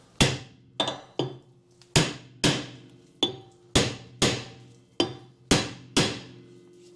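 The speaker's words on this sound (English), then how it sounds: "I'm just going to give it a tap with a hammer first to see if it will come off" Sharp metallic hammer blows on the rear brake drum of a 2016 Ford Focus 1.5 TDCi, about a dozen ringing strikes in irregular pairs and singles, close and loud with no talking.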